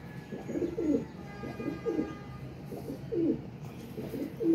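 Pigeons coo repeatedly in soft, rhythmic rolling phrases close by, several birds overlapping in a steady low murmur throughout.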